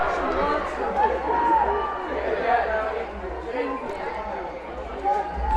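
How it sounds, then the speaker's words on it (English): Steady murmur of a large crowd at a Mountain Valley at Foxcroft quarterfinal field hockey playoff game, with overlapping chatter and scattered voices close and far, holding at an even level throughout. "Playoff game, wouldn't expect anything less than this big crowd we're seeing today."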